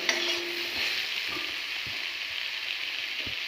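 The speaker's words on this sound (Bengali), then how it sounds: "এবার এটা ভালো করে লবণ আর হলুদ গুঁড়ো দিয়ে কিছুক্ষণ ভেজে নেব।" Okra frying in a pan with salt and turmeric powder over a low gas flame, a steady sizzle with a few soft stirring knocks from a utensil.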